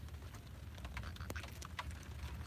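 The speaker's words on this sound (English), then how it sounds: "Okay, I'm getting rained on now." Rain patters faintly and irregularly on a sailboat, soft scattered drops over a quiet low rumble, with no one talking.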